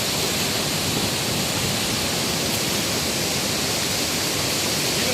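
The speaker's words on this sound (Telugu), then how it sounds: "ఇప్పుడు వాటర్ ఫ్లో ఎక్కువ ఉండడం వల్ల ఫుల్గా వాటర్ వస్తుంది." Heavy floodwater pours over Singasamudram waterfall near Lingapur village in Rajanna Sircilla district, making a steady, unbroken broadband roar that fills the whole clip with no voices.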